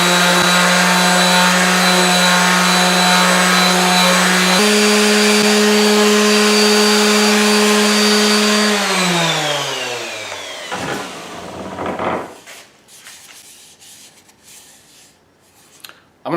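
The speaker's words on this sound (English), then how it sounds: "I just have some 150 grit on the sander." Orbital sander fitted with 150 grit paper working a small live-edge wooden bowl: a loud, steady motor whine with a rasping surface scrub, stepping up in pitch midway, then spinning down to a stop with faint handling noises after.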